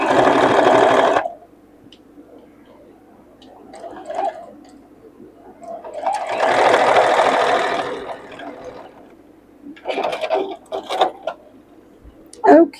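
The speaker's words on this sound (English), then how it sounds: "let's sew this other side up here because it didn't get sewn for whatever reason." A sewing machine stitching the seam of a circle bag runs in bursts of rapid, close whirring with stops between them, and quieter handling noises fill the pauses.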